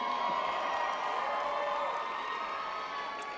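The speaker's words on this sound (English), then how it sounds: "I shouldn't talk over the applause lines." Audience at a 2014 community college graduation ceremony applauds and cheers in a broad, steady wash of crowd noise, fairly distant and sustained throughout.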